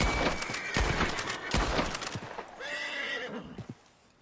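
A Kladruber horse in Red Dead Online whinnies in agitation, with loud neighs and snorts near the start and a long high-pitched whinny later, mixed with hoof clatter.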